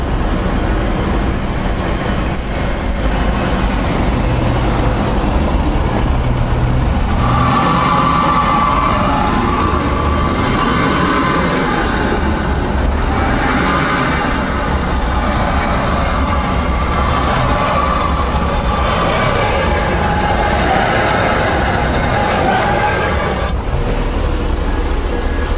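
A Renault Duster on a diagonal roller test bench with ESP off, rear left and front right wheels on the rollers, its engine droning loud and steady under heavy strain with a continuous rumbling whir and no letup.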